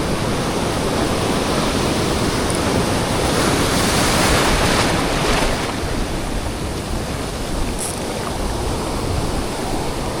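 Strong water current and waves rush in a steady, loud roar with dense broadband wash and no pauses, occasional faint higher splashes over the continuous flow; no voices.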